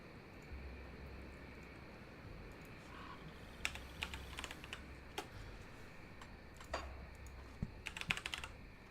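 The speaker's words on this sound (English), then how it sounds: "I can still hear you clicking in the background" Computer keyboard clicking during an online Grim Dawn multiplayer session: faint, irregular key taps and short bursts of typing over a low steady hum, quiet and somewhat distant.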